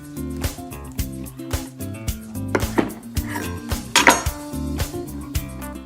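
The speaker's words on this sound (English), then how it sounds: "Just take your favorite knife and cut right through the middle of it." A knife slicing through a dragon fruit, with a few soft cuts and clicks of the blade on a board amid light kitchen clatter, close and fairly quiet.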